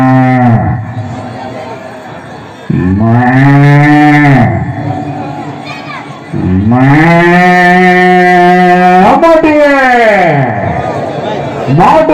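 A voice gives several long, drawn-out imitation cow moos in a mimicry performance, loud and close, with short pauses between them.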